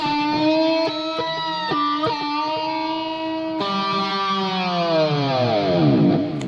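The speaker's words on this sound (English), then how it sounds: "Whammy bar dive." A distorted electric guitar holds a sustained note, then the pitch sinks in a long, wobbling whammy bar dive toward the end.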